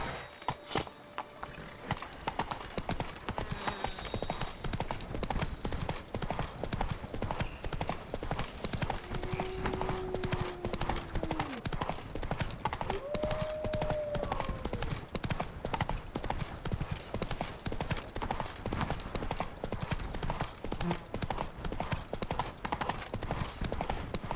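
A horse's hooves clip-clop at a steady trotting rhythm throughout a ride in The Witcher 3, with creaking tack, a brief whinny and game ambience beneath.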